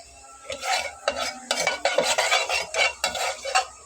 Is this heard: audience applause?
no